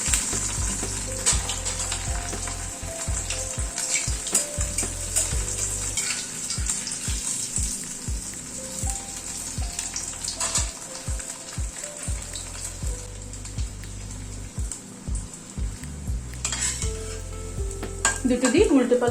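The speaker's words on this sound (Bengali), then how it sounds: "এবার চলুন ফ্রাই করি। কড়াইতে হোয়াইট অয়েল গরম বসিয়েছি," Cheesy bread bites deep-fry in hot white oil in a wok, giving a continuous bubbling sizzle with frequent stirring clinks and scrapes of a utensil against the metal.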